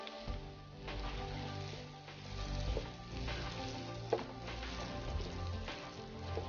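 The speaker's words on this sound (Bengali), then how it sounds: "পেঁয়াজ এবং রসুনটাকে ভালো করে ভেজে নিতে হবে" Chopped onion and garlic frying in a pan, a steady close sizzle with faint crackles and the odd stir running throughout, no voices.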